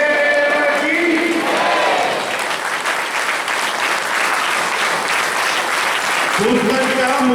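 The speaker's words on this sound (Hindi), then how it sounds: "तालियां बजती रहनी चाहिए" A crowd at a bhajan gathering keeps up loud, sustained applause, a dense continuous roar of clapping with tonal voices or music rising above it at the start and end.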